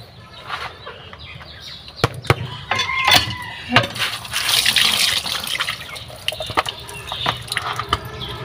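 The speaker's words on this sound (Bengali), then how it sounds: "এখন মাছগুলো ধুয়ে নেব।" Pangas fish being washed in water at a tubewell, irregular splashing and pouring with wet handling noises and hand knocks, faint birds in the background.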